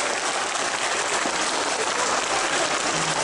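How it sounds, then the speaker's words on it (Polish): Dense audience applause fills a hall at a LEGO brick festival, a steady wash of many hands clapping together without a break. "Jeszcze raz wielkie brawa."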